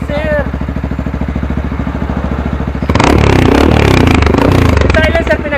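A 200cc mini superbike with a silencer exhaust idles steadily, then revs up loudly partway through and holds a rough, busy roar to the end, with people talking in the background.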